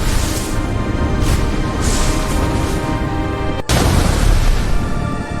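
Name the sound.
thunder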